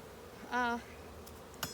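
A single honeybee zooms past during a hive inspection, a brief close buzzing drone lasting about a quarter second over a quiet outdoor background.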